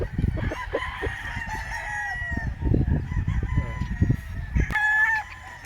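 A Golden Boy Street Comb gamefowl rooster crows clearly and close by at a farm, with one long crow over a background of clucking, other fowl and farm noise.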